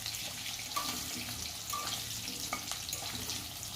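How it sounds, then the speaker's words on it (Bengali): Potatoes fry in oil released from pangas fish while making a fish kalia, giving a continuous close sizzle and crackle with faint stirring. "ওই তেলের মধ্যে আমি দিয়ে দিচ্ছি আলু। আলুটাকেও আমি ভালো করে একটুখানি ভেজে নেব।"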